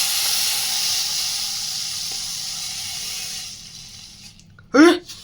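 Ice pellets hit a red-hot wok and set off a loud, steady sizzling hiss that slowly thins out. Near the end a short, sharp voiced exclamation breaks in.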